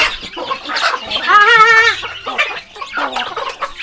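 Village chickens cluck and squawk loudly and close by, including a drawn-out rising call, in a busy flock with no talking.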